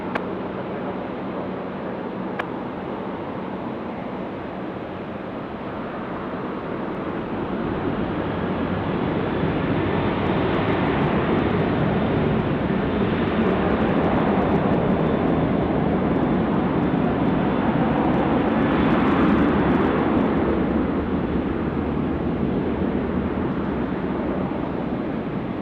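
A jet taking off from runway 16 right at Sydney Airport, a broad engine roar that swells gradually from a muffled rumble to a sustained, loud, distant-sounding thrust with no talking over it.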